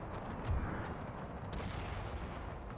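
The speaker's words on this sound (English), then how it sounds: "These guys, they're firing at the house." Troops in Napoleon: Total War fire muskets at a house, producing a continuous rumbling crackle of massed gunfire with a heavier burst near the start, heard at a distance.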